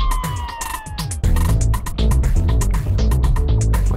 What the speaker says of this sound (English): Siren again.